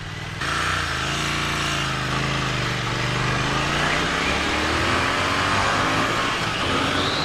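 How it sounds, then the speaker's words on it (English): A Triumph Thruxton R motorcycle engine revs hard toward redline, a loud, continuous rising roar with climbing pitch heard close up from the rider's position, with no talking. "It redlines a lot faster than I thought it would, but the power is pretty good up high."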